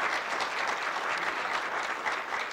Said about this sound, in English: Everybody give them a round of applause